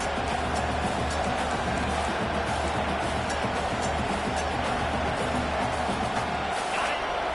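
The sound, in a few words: stadium crowd cheering at college football game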